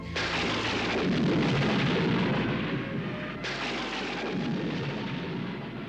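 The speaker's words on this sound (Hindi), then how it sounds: "अचानक ये बिजली कैसे कड़की?" A sharp lightning crack bursts in and rolls into long, loud, rumbling thunder that fills the whole stretch, with a second crack partway through, staged as a dramatic storm effect in a Hindi mythological TV drama.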